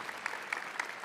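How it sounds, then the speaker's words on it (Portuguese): Church congregation applauding after a scripture reading at Mass, a brief steady patter of many hands clapping at moderate volume in a reverberant hall. "vamos aplaudir a palavra de Deus"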